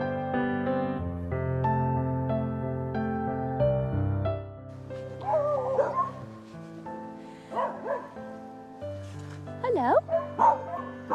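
A small corgi-like dog yips and barks several times in the second half, in short bursts inside a large wood-panelled castle hall, with steady background tones underneath.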